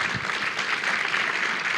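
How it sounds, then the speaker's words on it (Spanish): A church congregation applauds visiting guests at a Sunday service, a dense, steady wash of many hands clapping together that fills the room for the whole stretch without any talk over it. "Un fuerte aplauso a los visitantes."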